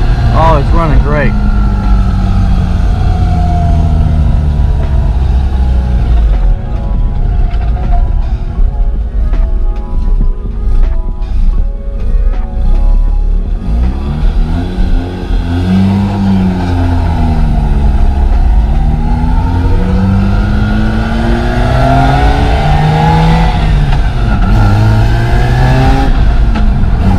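A Mazda RX8 with a freshly replaced transmission drives along, its rotary engine revving up and dropping through smooth gear shifts, loud and close with wind noise, while someone talks over it.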